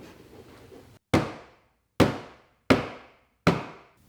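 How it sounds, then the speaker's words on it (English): A small hammer taps plastic push trim clips into place while fitting mud flaps on a Suzuki Jimny JB74, giving four sharp, loud, close knocks spaced about a second apart, each ringing out briefly after a quiet rustling start. "you do need a little hammer just to tap them in, just so they pop in and lock in"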